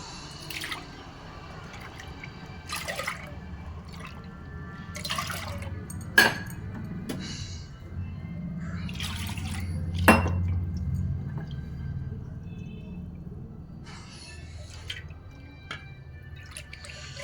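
Water poured off soaked, ground ragi (finger millet) into a vessel, quiet scattered drips and small splashes with a couple of sharper clinks of a pot, over a low background hum.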